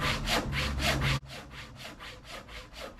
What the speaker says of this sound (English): took that outside and cut that out just using a handsaw